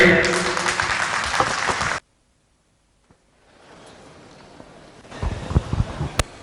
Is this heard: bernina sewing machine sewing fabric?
no